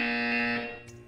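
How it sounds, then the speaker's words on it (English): A buzzer in the video game Portal 2 gives a short, harsh, rich electronic buzz at fairly low volume that fades out within about a second, with no voices. "You will hear a buzzer."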